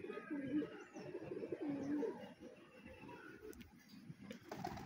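Jalali pigeons feeding in a flock, with soft repeated cooing close by over a steady low murmur and faint pecking, then fainter ambient noise toward the end.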